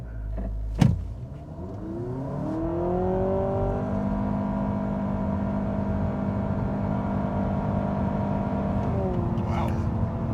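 A 2025 Honda Civic Hybrid hatchback in sport mode pulling hard from a standstill, a short thump then a rising engine and electric whine that climbs smoothly and holds at a high steady drone, with a voice briefly heard.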